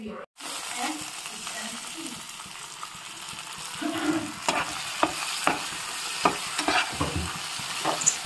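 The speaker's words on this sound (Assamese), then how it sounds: "এয়া হ'ল পেটু ভাজি" Fatty local fish belly fries in a pan with little added oil, a soft steady sizzle broken by scraping stirs and light clinks, close and fairly quiet.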